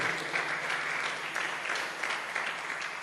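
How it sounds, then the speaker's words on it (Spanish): A church congregation claps hands in praise during a service, a steady wash of applause with a faint rhythmic pulse, fairly quiet and without talk. "dale palmas fuertes a tu Dios"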